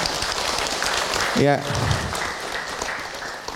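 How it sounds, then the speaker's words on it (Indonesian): A studio audience claps during a religious talk show, a steady, moderately loud wash of hands with a short spoken interjection in the middle. "tepuk tangan untuk Ibu Encum"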